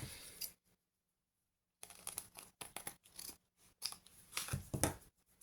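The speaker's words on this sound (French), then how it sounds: "Je vais couper ce qui dépasse." Scissors snip through card stock while a scrapbook birthday card is trimmed, with one short cut, a pause of silence, then a quick run of close, crisp snips.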